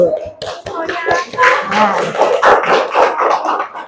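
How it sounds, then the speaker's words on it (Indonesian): Schoolchildren in a classroom patting their friends' shoulders, a busy run of soft, quick slaps and taps under steady overlapping young voices. "Ayo tepuk pundak temannya."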